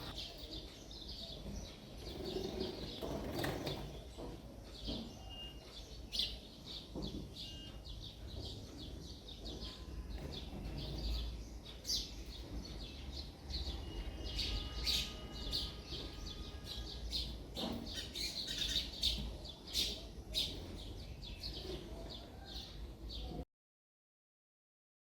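Small birds chirp and tweet repeatedly around a home, with pigeon-like cooing mixed in, a steady busy chorus of short calls at moderate distance over faint background noise throughout.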